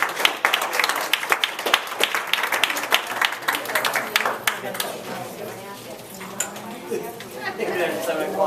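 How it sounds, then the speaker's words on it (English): Audience applause at the close of a workshop session, a burst of dense clapping that thins out as people get up, with chatter and voices mixing in toward the end. "Let's give a round of applause."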